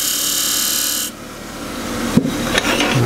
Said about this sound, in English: it's just a question of sanding.